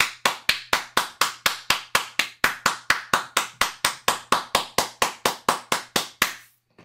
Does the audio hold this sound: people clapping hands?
yes